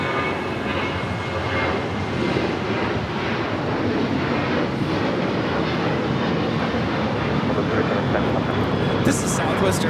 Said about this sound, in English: This is Southwest Airlines 3710 taking off to Phoenix on the 737-800